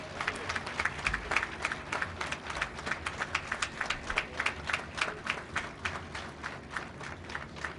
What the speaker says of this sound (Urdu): کارکنان کے ساتھ ساتھ آج ابھی صحافی بھی تالیاں بجا رہے ہیں، اور باقی بھی خواتین و حضرات تالیاں بجا رہی ہیں